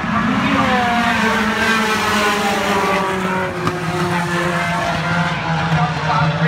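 Thunder Stocks stock cars racing around a racetrack, a loud sustained engine roar with rising and falling pitch as cars pass close, while an announcer talks over the noise.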